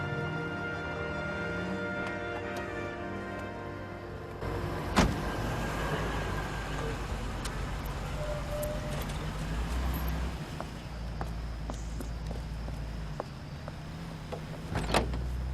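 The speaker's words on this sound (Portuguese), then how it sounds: "O cara parou o carro na esquina, mano" A car in the video game L.A. Noire rolls up and comes to a stop, its engine hum steady and close, with a few mechanical clunks and a louder thump partway through, set against a low ambient city bed.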